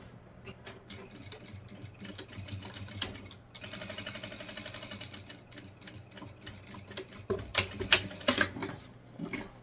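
A sewing machine runs a straight stitch across fabric for an Easter basket pocket, with a steady rhythmic whir and needle clatter that quickens near the end, followed by a few sharp clicks.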